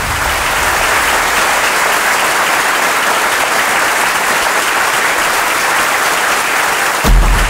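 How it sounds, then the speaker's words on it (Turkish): A large crowd at a CHP political rally in Turkey claps loudly and continuously, a thick, unbroken wall of applause with no one speaking over it, ending with a brief burst of louder noise. "Avuçlarımız patlarcasına alkışlıyoruz."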